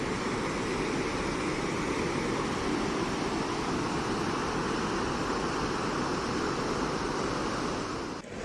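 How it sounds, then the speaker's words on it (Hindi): A swollen river rushes below a valley path among apple orchards in Harsil valley, a steady, dense roar of water that holds evenly loud throughout with no talk. "लेकिन अभी जो है नीचे पानी काफ़ी बढ़ा हुआ है।"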